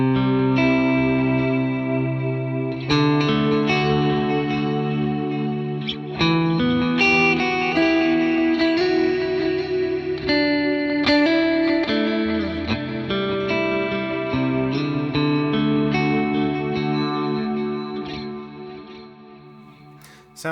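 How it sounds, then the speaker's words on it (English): Clean ambient electric guitar through an Axe-FX III with a dual quarter-note and dotted-eighth delay: picked notes and chords cascade into overlapping rhythmic repeats, steady and moderately loud for about twenty seconds, with no voices. "dual delay. So this is the quarter note and dotted eighth delay."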